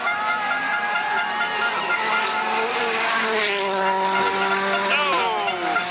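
Sébastien Ogier's Volkswagen Polo rally car screams past on a special stage in the Vallée de Munster at the 2013 Rallye de France Alsace, engine pitch rising and falling through gear changes under commentary.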